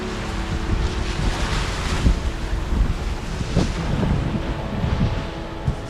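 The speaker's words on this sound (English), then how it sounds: "When the waves crash, we've got to go fast." Ocean waves crashing and surging on open water near a boat, a steady loud rush of surf with heavy wind buffeting the microphone throughout, no voices.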